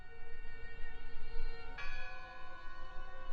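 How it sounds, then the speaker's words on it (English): A bell rings in the video game Draugen, a sustained tonal strike swelling partway through over a low ambient hum, with no other sounds on top. "It must be her ringing the bell."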